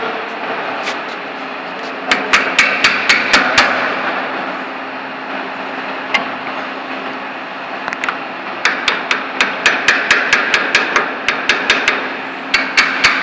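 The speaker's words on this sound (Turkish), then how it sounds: "Zarar vermemesi için alüminyumla vuruyoruz." An aluminium hammer strikes a steel pipe-bending die to seat it on a CNC pipe-bending machine, sharp metallic blows in quick bursts of several hits separated by short pauses, loud and close, with a faint workshop hum underneath.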